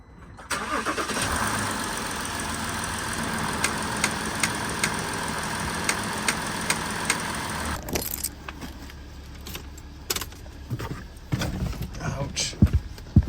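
A Vauxhall Astra engine, fixed after top end damage, cranks and runs with a steady rough churn and rhythmic ticking for about eight seconds, then cuts out, leaving quieter clatter and handling sounds nearby.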